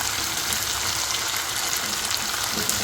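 Eggplant tumbling into a pan of potatoes already frying in a home kitchen, giving a steady, close, continuous sizzle with faint crackles and no talk.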